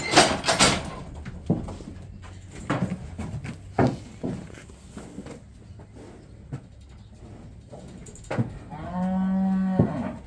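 Cattle are moved through a weighing station. Sharp metallic bangs and clanks come first, then one long, loud, nearby moo near the end.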